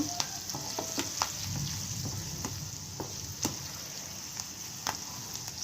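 Curry leaves and cut green chillies fry in hot oil left over from frying masala fish, a steady sizzle broken by sharp crackling pops and spits scattered throughout.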